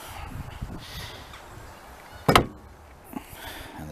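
A Rover P6 car door is shut once with a single solid thump, heard amid low outdoor ambient noise and faint background rustling.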